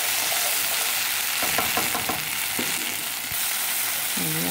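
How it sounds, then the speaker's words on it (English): Tomato sauce and pasta (sopa) sizzle loudly in hot oil, a dense continuous frying hiss with short clatters of stirring in the pan partway through. "And you fry the tomato sauce in the oil with the pasta or sopa."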